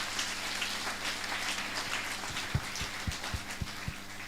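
A church congregation at a Christmas celebration in Dandora claps under a continuous broadband wash, with several sharper, louder claps landing toward the end.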